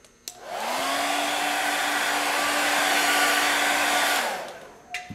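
A hair dryer blows steadily on a freshly stippled layer of witch makeup on a forehead, a loud continuous whir that starts abruptly, holds for about four seconds, then cuts off, with no talking.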